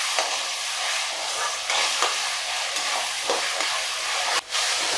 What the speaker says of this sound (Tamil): இப்போ இஞ்சி பூண்டு சேர்த்து நல்லா கிளறி விட்டுக்கலாம்